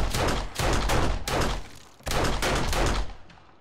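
Several bursts of rapid gunfire in the survival game 7 Days to Die, close and loud, with brief pauses between volleys and a fading tail at the end.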